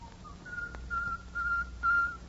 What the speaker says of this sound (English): somehow he managed to whistle his one tune